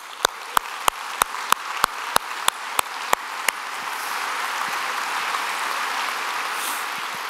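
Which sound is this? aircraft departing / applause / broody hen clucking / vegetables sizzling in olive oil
applause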